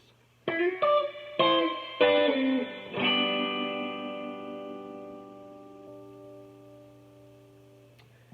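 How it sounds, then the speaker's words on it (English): Guitar strums a slow chord walk-down from D back to G, as in a song, with four spaced strums then a final chord ringing out and fading over several seconds, alone and fairly quiet. "So if we slow that down, that walk down from the D that leads back into the G"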